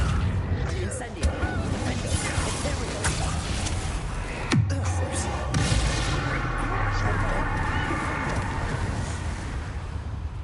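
Video game gunfire in a wizard-themed game, with sharp shots and a heavy bang partway through, over a dense, continuous background of game noise.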